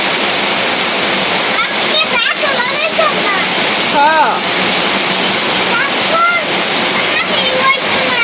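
Heavy rain pours down steadily around a kitchen, a dense continuous roar of falling water, while someone talks briefly over it and birds chirp faintly in the background.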